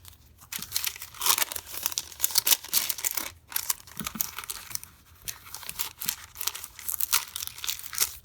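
A glassine envelope holding printed, cut stickers is handled up close, giving crisp crinkling and rustling in irregular bursts with brief pauses.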